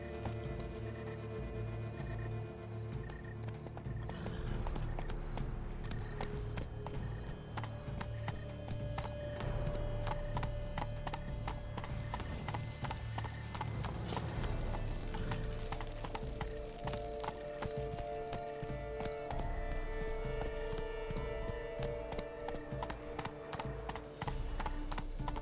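Horse hooves clip-clop in a steady rapid rhythm while riding on horseback in The Witcher 3, with a neigh and soft tonal music in the background throughout.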